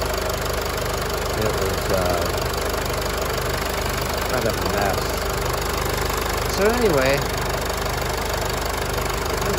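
A 2014 Mercedes-Benz GLK250 Bluetec diesel idles with a steady low rumble and faint knocking throughout, with a person talking over it.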